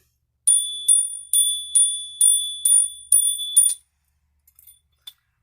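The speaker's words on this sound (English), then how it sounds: "Let me hit the bell." A bright metallic bell struck eight times in a quick, steady rhythm, each ring clear and close, followed by a few faint taps.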